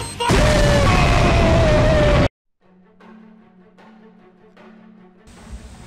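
A video game explosion sound effect: a loud, dense roaring blast that lasts about two seconds, then cuts off abruptly into near silence with faint tones and low hum.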